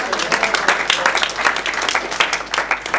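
A church congregation applauding, sustained rhythmic clapping from a crowd that rises and falls in waves for a few seconds, fairly loud and close, with no talk over it.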